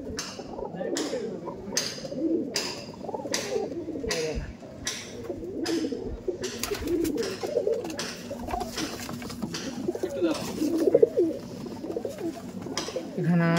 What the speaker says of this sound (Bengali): এখানে নানা রকম ব্রিডের পায়রা দেখতে পাচ্ছি